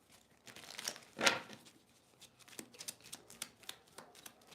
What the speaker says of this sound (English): The first shuffle, the cards got stuck.